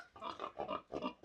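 A pig on a farm grunts in a series of about four short, soft, throaty bursts at an uneven rhythm, faint and fairly close, with no talking.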